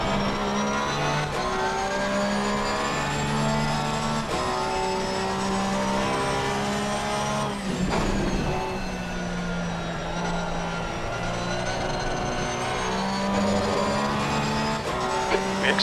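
A Porsche GT3R race car engine drones steadily at Zolder in a multiplayer racing game, its harmonic whine climbing and dropping through gear shifts, loud and continuous with no talk.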